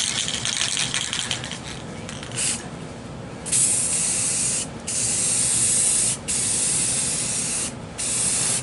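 An aerosol spray paint can lays down a light coat through a swapped-in nozzle from an empty black can, loud close hissing bursts with short pauses between sprays.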